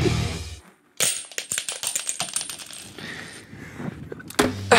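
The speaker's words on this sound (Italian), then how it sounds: "Monete che cadono. Anche centesimi." Cent coins drop onto a hard surface in a rapid, bright cascade of metallic clinks and rattles that tumble and settle over several seconds, heard up close with nothing else going on.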